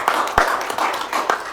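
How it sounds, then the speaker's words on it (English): A few scattered hand claps from attendees at a county pre-agenda meeting, sparse and uneven, just a handful of sharp claps in a short burst. "I think that deserves an attaboy applause for that kind of money."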